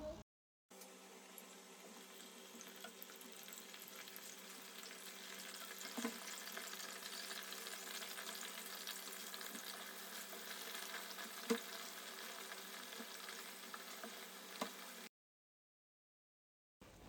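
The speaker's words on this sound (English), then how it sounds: "I'm using my pan to fry the chicken" A steady, quiet sizzle of chicken frying in hot oil in a pan, with a few faint pops and clinks, ending in silence.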